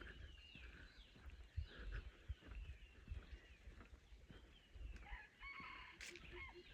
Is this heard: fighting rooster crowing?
yes